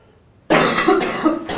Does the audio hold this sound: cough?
yes